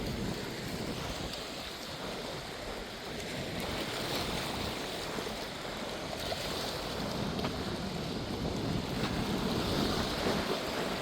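Waves wash onto a Great Lake beach near Chicago's Northerly Island as a continuous surf hiss and rumble, mixed with gusts of wind buffeting the microphone and no talk.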